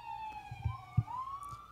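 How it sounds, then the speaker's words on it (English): A police siren wails in a long rising tone, distant and faint, heard alone apart from a couple of low thumps. "As the sirens go."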